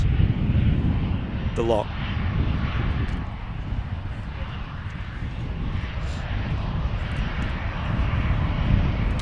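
A standard Airbus A320 jet at Manchester Airport gives a steady, broad engine roar that fills the whole stretch at moderate distance, with a voice briefly talking over it.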